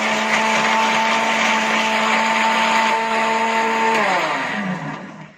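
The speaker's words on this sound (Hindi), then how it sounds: "अब मैं इसे ब्लेंड कर दूंगी।" An electric blender whirs loudly and steadily, churning cold coffee with chilled milk and ice cubes, then winds down as it is switched off at the end.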